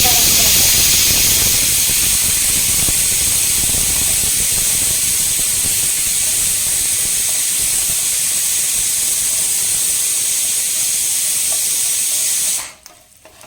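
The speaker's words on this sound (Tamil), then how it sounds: "இப்போ இது வந்து லைட்டா அப்படியே ரோஸ்ட் பண்ணிக்கலாம்." Grated coconut roasting in a pan for a chutney gives a steady, loud hiss and sizzle that holds for about twelve seconds and then cuts off abruptly.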